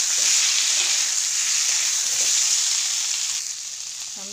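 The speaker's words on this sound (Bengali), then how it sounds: "আমি তেজপাতা একটু করে পেঁয়াজ দিয়ে দেবো আর সিদ্ধ করে রাখা আলুগুলো ভেজে নেব।" Boiled potatoes frying in hot oil with onion and bay leaf give a steady, loud, close sizzle that runs unbroken, easing slightly near the end with a faint clink.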